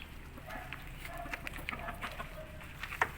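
Chickens kept indoors for the breeding season cluck and call while pecking at greens given as a noon snack; the clucks are soft and scattered, with one sharper call near the end.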